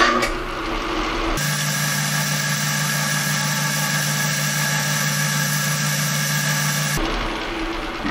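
Metal lathe turning down a part for a hand pump, a steady close mechanical hum and whine running for about six seconds between quieter idling stretches.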